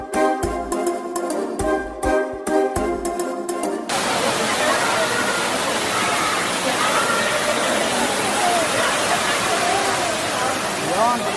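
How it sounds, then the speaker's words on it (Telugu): A waterfall near Araku pours down from above, its loud, dense rushing roar filling the second half after a short stretch of tonal, music-like sound. "చూసారా పై నుంచి పడుతుంది అనమాట జలపాతం."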